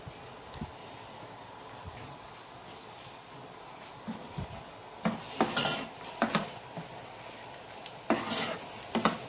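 Onions fry in a pan while a utensil stirs them. Faint sizzling runs underneath, and clustered bursts of metal scraping and clinking grow louder in the second half.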